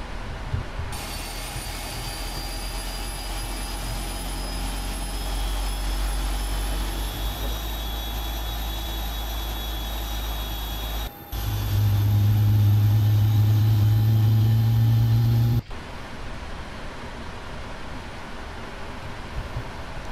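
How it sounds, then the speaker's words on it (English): Airliner jet engine spooling up during start in the Prepar3D v4.2 flight simulator, a steady turbine whine and rising tones over a low rumble, with a louder heavy roar swelling midway before easing back, alone without talk. "And we'll start the engines. Start number 2 first."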